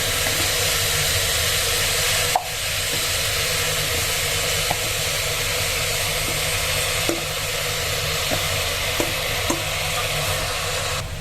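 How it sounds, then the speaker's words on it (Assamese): Rice going into a pot of chicken biryani layered over meat, heard as a steady close sizzle and hiss of cooking with a few soft clicks and stirring knocks throughout. "এতিয়া চাউলখিনি ইয়াত দি দিওঁ"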